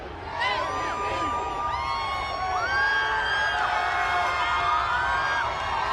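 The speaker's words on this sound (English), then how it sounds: "Just soaking it in, all of the cheers." A Denver Nuggets NBA championship parade crowd cheers and whoops nearby, with sustained shouting voices, rising whistles and excited calls layered together.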